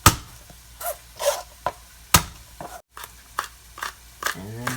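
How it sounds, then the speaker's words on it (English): Garlic cloves being smashed on a cutting board for sauteed beet greens, with a series of irregular sharp knocks and thuds, close and fairly loud, plus brief scraping between hits. "Garlic time. So we're just going to smash these on the side."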